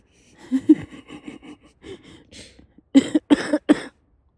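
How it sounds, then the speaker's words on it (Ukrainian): A person coughs repeatedly up close, a run of small hacking coughs followed by a few louder, harsher ones. "Почула, що я кашляю."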